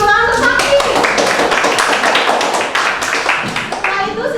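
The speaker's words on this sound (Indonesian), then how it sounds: "Tepuk tangan untuk sapi." Students in an Indonesian classroom clap for a student group, with dense, close hand claps in a brisk rhythm that thins toward the end, and a brief voice at the start.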